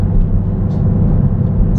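A loud red car's engine droning steadily while driving through town, a constant low rumble heard up close from inside the car with no speech.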